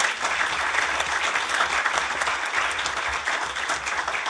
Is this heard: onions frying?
no